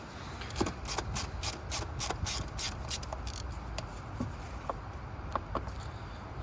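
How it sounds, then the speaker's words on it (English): A small Torx bolt is worked out of the turbo actuator on a 2019 Audi A1 on a wet day, giving faint close scraping and rasping turns with light metallic clicks, a steady hiss behind them and no talking. "So we'll get that little Torx bolt out of there."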